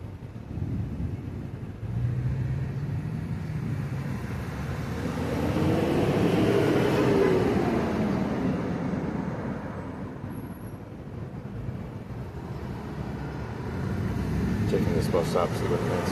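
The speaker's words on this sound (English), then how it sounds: "there goes a Waymo right there. Driving itself" A Waymo self-driving car passes on a street near a bus stop, its broad road rumble rising to a peak mid-clip and then fading, with someone talking over it.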